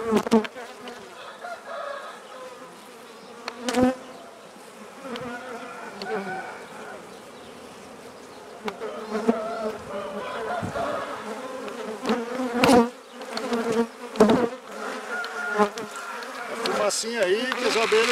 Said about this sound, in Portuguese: o enxame é bem fortezinho